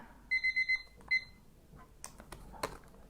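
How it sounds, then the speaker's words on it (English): A timer alarm sounds four quick, loud beeps in a row, then one more beep after a short pause. Soft clattering and handling noises follow in a quiet room. "Set your timer for 15 minutes."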